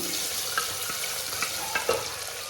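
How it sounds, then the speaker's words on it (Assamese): Onions sizzle in hot oil in a pan for a home-style jackfruit curry. The frying crackles steadily and closely, broken by a few sharp stirring clicks, with no talking. "সাধাৰণ ব্ৰাউন হোৱালৈকে পিঁয়াজখন ভাজিম।"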